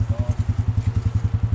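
A Polaris Sportsman ATV engine with a loud aftermarket exhaust idles nearby, throbbing in a fast, even pulse of deep, rumbling exhaust beats.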